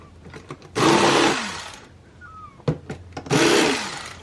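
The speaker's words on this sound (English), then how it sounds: "So we'll get the appropriate cutting tool out here" Tape on a taped-shut Hobby Boss model kit box is sliced with a hobby knife in two separate bursts of dense, scratchy rasping, each lasting under a second, with soft taps and handling noises in between.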